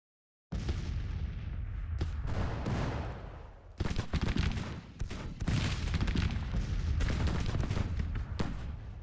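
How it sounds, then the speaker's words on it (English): Grapeshot artillery fire booms across a battlefield in the strategy game Grand Tactician: The Civil War, a sudden loud burst followed by sustained rolling, crackling volleys with several sharper reports, dense and continuous. "Good, you gave him a whiff of grape shot."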